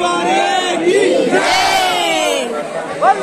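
A dense crowd of worshippers chants and calls out loudly together at Banke Bihari temple in Vrindavan, a close, continuous wall of overlapping voices with a sharper shout rising at the end.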